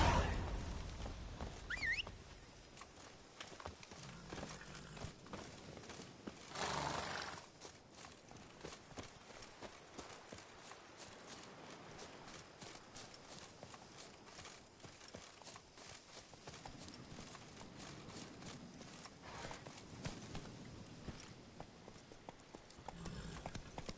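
Roach the horse runs in The Witcher 3, hooves clip-clopping in a steady, moderately loud gallop over a low ambient game soundscape, with a brief louder rush partway through.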